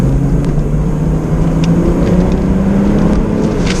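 A 1990s VW Corrado VR6 engine hums at moderate revs while driving, a loud steady in-cabin drone with a slowly rising pitch and no talk.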